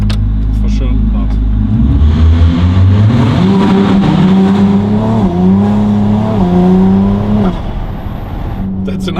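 Novitec-tuned Ferrari 296 GTB V6 with an aftermarket exhaust revs loudly and close by, its pitch climbing and holding in repeated surges before easing off near the end.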